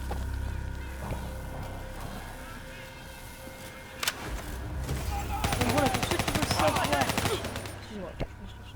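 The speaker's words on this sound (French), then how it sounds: "Tirez, maintenant! Je tire." Gunfire in the video game Call of Duty Black Ops 3: sharp shots and a dense burst of rapid automatic fire in the middle, moderately loud over a low engine-like drone, with game voices speaking French around it.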